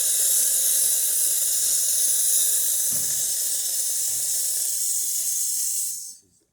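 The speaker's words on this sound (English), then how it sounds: "So let's see the hot water or the steam" A loud, steady high-pitched hiss of steam blasting from a Rocket Appartamento espresso machine wand, then cutting off abruptly near the end.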